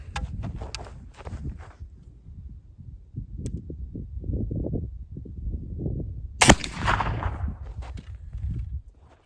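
A single sharp airgun shot firing a brass pellet cracks loudly and close, standing out over quieter low thumping and handling noises before and after.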